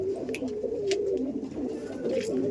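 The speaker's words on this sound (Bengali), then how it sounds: "প্রথমে একটি গিরিবাজ পায়রা দেখাচ্ছি দাদা" Giribaz pigeon cooing, a series of soft throaty coos repeating in a wavering rhythm close by, with faint background noise and brief higher chirps from other birds.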